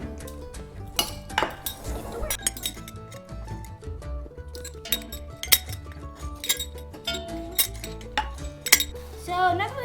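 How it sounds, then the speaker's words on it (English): A fork stirs dry ingredients of flour, sugar, baking powder and baking soda in a bowl, giving quick, busy clinks and scrapes against the bowl, close and continuous throughout. "we're going to stir it around with a fork"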